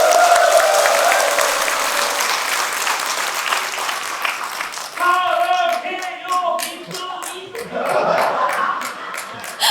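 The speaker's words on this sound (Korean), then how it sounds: "용혜인 의원님께 다시 한번 큰 박수 부탁드립니다." Audience applause at the launch ceremony of a rural basic income coalition, dense clapping at first, then thinning into scattered claps with a few voices and rhythmic claps near the end.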